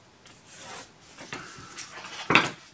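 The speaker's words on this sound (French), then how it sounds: "je vais tracer, puis découper" Scissors or a craft knife cutting a marked paper strip with a printed motif, producing soft rasping, rubbing strokes that build to a sharper, louder cut near the end, close and alone.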